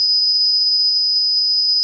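A steady 5000 Hz sine test tone holds at one constant, shrill pitch for about two seconds. It is loud and pure with no other sound.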